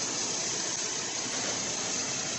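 A 2009 Buick Enclave engine idling while parked, a steady low hum with a constant broadband whir of air running underneath, unchanging throughout and with no talking.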